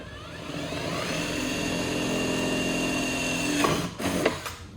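Power drill driving a screw into a fiberglass VW fender, a steady whirring motor hum running for about four seconds before stopping, followed by a few short clicks and handling knocks, close and moderately loud.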